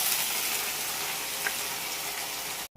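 Black cumin seeds tempering in hot oil for a Bengali fish curry, a steady, close, bright sizzle and crackle of frying that holds evenly before cutting off abruptly.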